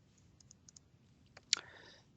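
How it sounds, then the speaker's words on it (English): A computer mouse clicked on a button, one crisp click standing out over faint, sparse ticking in a quiet room. "click the button"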